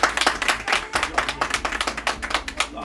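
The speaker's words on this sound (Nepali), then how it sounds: "ताली बजाइदिनु" A small group claps at a Nepali baby-naming ceremony, a quick, fairly even patter of hand claps close by for a few seconds.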